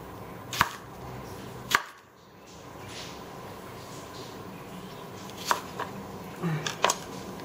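A few sharp knife chops through streaky pork on a cutting board, spaced irregularly with quiet gaps, close by over a faint room hum.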